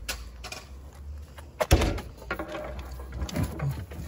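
A cabinet door handled indoors, with a sharp knock or thump near the middle followed by softer rattling and a second bump toward the end, fairly close and moderately loud, with no talking.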